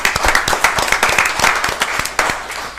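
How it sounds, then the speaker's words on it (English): A crowd at a city commission meeting gives a steady, dense round of applause, many hands clapping together at close range with no voices over it. "Wilson, round of applause."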